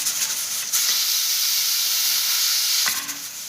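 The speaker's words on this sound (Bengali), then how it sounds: "এদিকে কড়াই বসাই দিছি, এইদিকে আমার যা যা এদিকে চানা সিদ্ধ হইতে, এইদিকে এটা ভাজিয়ে নিই মশলাটা" Spices fry in a hot wok for chicken and pea ghugni, giving a loud steady hiss and sizzle throughout with a couple of brief sharp clatters.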